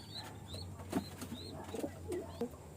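Pet pigeons coo softly at close range in a loft, several short low calls spread across a few seconds, with faint higher chirps and light rustling around them.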